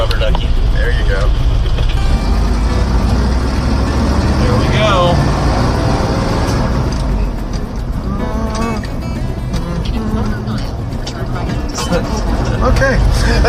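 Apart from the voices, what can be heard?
4-wheel drive crew cab tow truck engine driving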